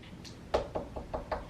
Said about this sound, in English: good old knock on the door